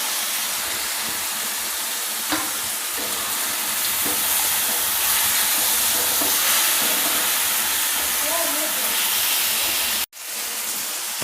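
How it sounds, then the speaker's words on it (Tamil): Vegetables sauté with a sprig of curry leaves in a pan for Tamil poricha kulambu, giving a steady, close sizzling hiss with faint stirring clinks that cuts off sharply near the end. "காய் நல்லா வதங்கிடுச்சுங்க."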